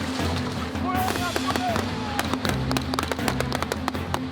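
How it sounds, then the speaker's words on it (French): Blank rounds fired by soldiers during a coordinated assault in a Jaguar training-course exercise, sharp cracks scattered irregularly over several seconds, some near and some farther off, over steady background noise and faint voices. "Les soldats tirent des balles à blanc."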